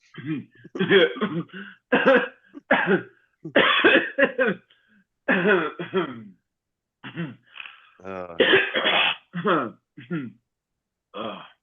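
Several sharp coughs burst out in quick succession during a live studio show, some heavy and throaty, spaced unevenly across the stretch with short pauses between fits.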